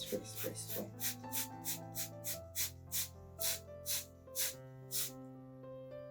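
Roughly a dozen quick spritzes of water from a spray bottle onto hair in a steady rhythm, each a short hiss, over soft background music.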